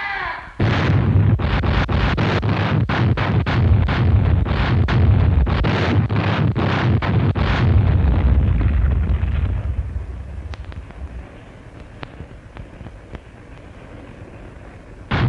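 Heavy naval gunfire from battleships in the 1944 Battle of Surigao Strait: a long run of loud, rapid booming salvos, dozens of blasts in quick succession, then fading into a low rumble and scattered distant thumps.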